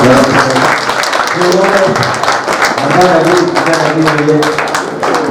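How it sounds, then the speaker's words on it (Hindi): An audience at a staging of the play Madhavi claps for a visiting guest, the applause sustained and fairly loud, with voices carrying over it throughout. "संजय तेंदुलिया जी के लिए एक बार ताली बजाया सब लोग"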